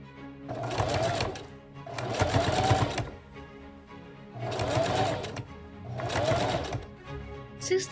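A sewing machine stitches down a box pleat on a Victorian bustle, running in four steady whirring bursts separated by short pauses, close and clear.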